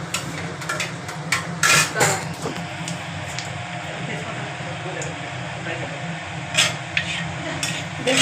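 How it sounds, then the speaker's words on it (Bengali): Spices frying in a pan make a steady low sizzle, with a few sharper clinks and scrapes from a spoon against the metal and a voice talking now and then over the cooking. "দেখুন, এবার মশলাটা ভাজা ভাজা হচ্ছে"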